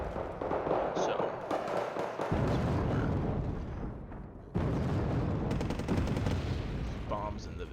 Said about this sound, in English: bombs in the vicinity.